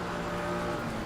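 A race car in the Assetto Corsa Competizione racing game, a McLaren 570S GT4 at Paul Ricard, roars past with a loud, steady engine drone across the whole short stretch, no voices.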